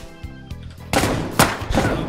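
Shotgun gunfire in the survival shooter Deadside: a few sharp, loud blasts, the first near 0.9 s and a stronger one around 1.4 s, cracking over ongoing game ambience and scattered thuds.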